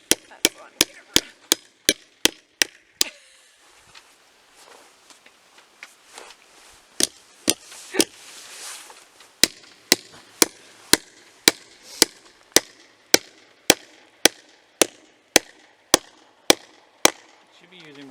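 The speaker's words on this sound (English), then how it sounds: "Should be using my other hammer." Loud, sharp hammer blows land in steady rhythmic runs while building a grapevine trellis, pausing briefly mid-way with faint rustling before the regular pounding resumes.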